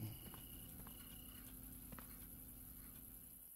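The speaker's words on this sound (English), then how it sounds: "let's go and sleep. Because those crickets are annoying." Crickets chirp at night in Recycling Center Simulator, a video game: a faint, steady insect drone carrying a few soft tonal chirps over a constant low hum.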